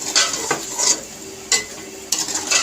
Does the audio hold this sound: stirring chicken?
yes